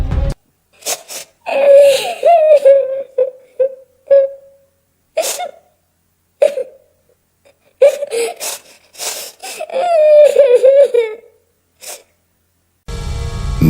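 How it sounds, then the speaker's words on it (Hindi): A child's sobbing sound effect plays in short, broken bursts of whimpering cries separated by silent gaps. A brief burst of noise closes the sequence. "अचानक कहीं बहुत हल्की सी सिसकी सुनाई दी।"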